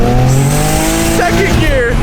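A tuned 600-horsepower BMW 335i launches hard in first gear. The engine howl is loud and close, and the tires squeal and chirp briefly as it rips away.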